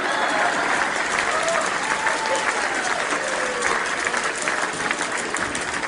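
Audience applause at an international Hindi poetry convention in Dallas, Texas: a dense, loud, sustained clapping from a full hall, steady throughout and easing slightly toward the end.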